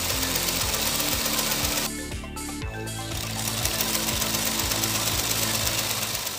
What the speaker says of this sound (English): This homemade Stirling engine was built using easily accessible materials.